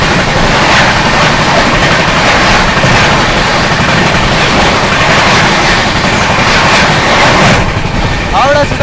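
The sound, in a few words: Howrah New Delhi Rajdhani Express train passing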